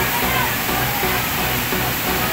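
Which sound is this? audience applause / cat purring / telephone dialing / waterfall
waterfall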